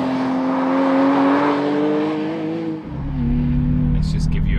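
Porsche Cayman GTS 4.0 accelerating in sixth gear from low revs, a steady rising engine drone close up that dips briefly before pulling on, heard from inside the car.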